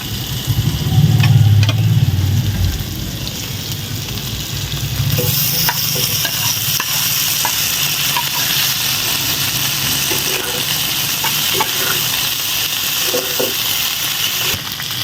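Pasta being stirred into a pan of fried chicken, with loud steady sizzling and frying throughout, a heavier scraping stir early on, and scattered clicks and taps of a utensil against the pan.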